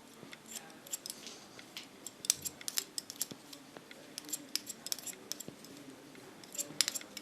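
Scissors snip steadily at close range while cutting a pixie haircut, a quick run of crisp metallic clicks and blade closes in an irregular rhythm, with no talk.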